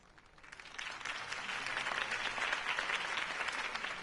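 A crowd breaks into sustained applause after a campaign speech in a video game, swelling quickly from quiet to a dense, steady wash of clapping that holds to the end.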